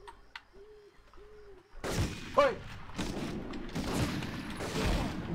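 Gunfire erupts in the PS1 game Medal of Honor after a quiet opening with tonal game sounds, followed by a sustained barrage of shots and booms; someone briefly shouts.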